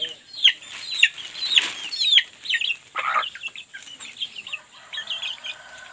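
Chickens clucking and squawking near the microphone on a farm in cold weather, a busy run of irregular calls with short bursts, alone without talk.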